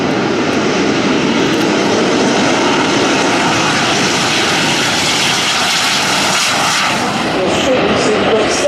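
Red Arrows jets take off down the runway at the 2014 Farnborough Air Show, a loud continuous jet engine roar that holds steady for nearly nine seconds, with an announcer speaking over it.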